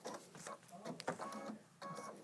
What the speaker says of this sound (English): This is a Brother 2300. It's a pre-loved sewing machine.